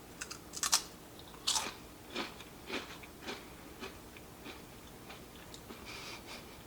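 Someone chews crunchy homemade Cheez-It crackers baked in a convection oven, with close, crisp bites and crunches coming irregularly, sharp at first, then softer and fainter.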